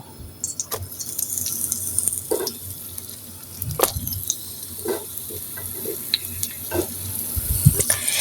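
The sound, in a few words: eggplant slices frying in oil in a frying pan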